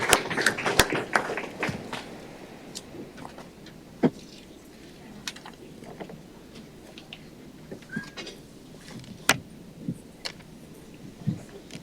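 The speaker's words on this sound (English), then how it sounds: "let's give our Way to Go runners a round of applause again" A county commissioners meeting audience claps for the runners, with scattered, uneven hand claps and taps of varying loudness spread over several seconds, alongside light room noise.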